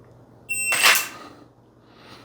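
A single sharp electronic beep from a shot timer during handgun draw practice, followed by a brief burst of noise as it fades, in an otherwise quiet space.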